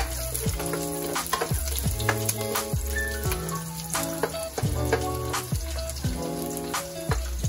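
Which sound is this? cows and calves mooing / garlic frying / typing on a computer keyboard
garlic frying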